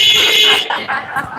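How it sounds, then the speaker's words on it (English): Loud arena buzzer signalling the start of a U17 lacrosse game between the Axemen and the Calgary Hornets, a sustained harsh tone for over half a second, then crowd chatter and voices. "that's the buzzer saying we're going to get started here"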